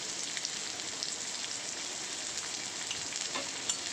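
Small onions (shallots) fry in hot oil with a dense, even crackling sizzle like light rain, steady and close throughout with no voices.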